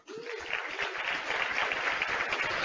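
Audience applause fills a keynote hall at a tech conference, a steady wash of many hands clapping, fairly close and sustained throughout with no speech over it.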